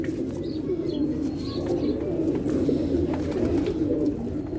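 A fulsara pigeon coos in soft, repeated low murmurs close by over a steady background din, with faint chirps from other birds.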